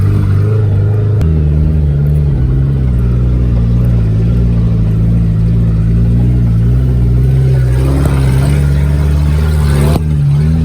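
A Suzuki Samurai 4x4 crawls along an off-road trail behind a Tacoma. Its engine gives a loud, steady low rumble with slight revving changes and bumps from the rough ground. There is no speech.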